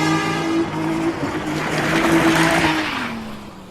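A car driven dangerously with tires squealing, a loud sustained screech that wavers and bends in pitch over steady engine roar, close by with no talk.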